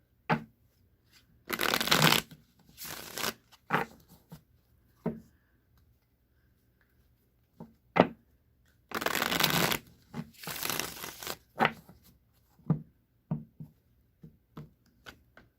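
A tarot deck is shuffled in several riffling bursts, separated by sharp taps and clicks as the deck is squared, close up in a quiet room.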